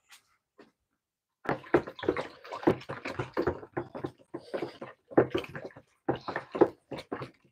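Homemade liquid soap mixture being stirred by hand in a container, giving a run of close, irregular sloshing and scraping bursts after a quiet start.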